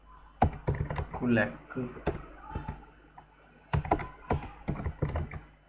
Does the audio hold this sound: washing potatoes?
no